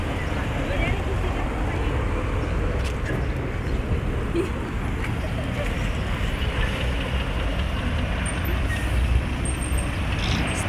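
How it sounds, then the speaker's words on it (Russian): Low, constant rumble of street traffic on Lenin Avenue in Yakutsk, Russia, in summer, with engines passing at a distance and wind buffeting the microphone, a few faint higher clinks above. "Звуки, ветер, машины."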